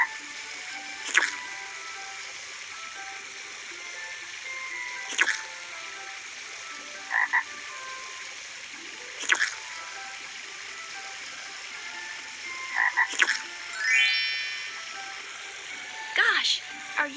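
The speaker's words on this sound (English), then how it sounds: "Gosh, are you a frog, Prince?" Frog croaks ring out repeatedly in a quiet setting, a handful of short, sharp calls spaced a few seconds apart, with one rising chirp among them.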